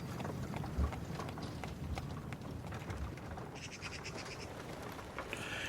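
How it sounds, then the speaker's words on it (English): Horse hooves clop on cobblestone in a gray, cold, wet town area, a faint irregular patter under a dense bed of ambient noise, with a few bird-like chirps near the end. "the sound of horse hooves meet cobblestone"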